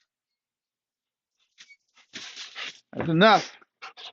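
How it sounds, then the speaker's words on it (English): Luna, a dog, giving a loud, wavering, whining howl with short yelps around it, close up, while a person speaks briefly. "you're a loud dog when you're going like that"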